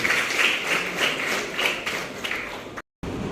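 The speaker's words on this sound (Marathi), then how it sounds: "पुन्हा एकदा आपण जोरदार टाळ्या वाजवून सर्वांचं स्वागत करूया." An audience claps to welcome guests at a blood donation and medical camp, a dense round of applause that swells and eases, breaks off for a moment and then resumes.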